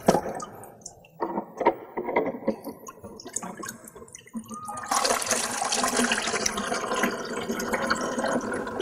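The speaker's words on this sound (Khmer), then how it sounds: "តមកយើងចាក់ទឹកចូល" Water gushes steadily into a container linked by tubing to a balloon in a physics pressure experiment, a loud continuous pour that follows some earlier talk and handling noises.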